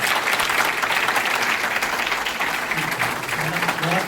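Students at a school transitional curriculum program break into sustained, dense applause, a loud crowd clapping close by without pause.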